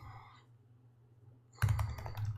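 Keys clatter on a computer keyboard as a search query is typed into Google, a dense burst of clicks starting near the end after a quiet stretch of low hum.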